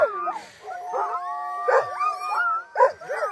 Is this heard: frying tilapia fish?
no